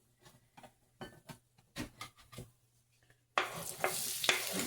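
Chopped onion drops into hot bacon renderings and browns there, bursting into a loud, dense, continuous sizzle after a few quiet knocks and scrapes of handling.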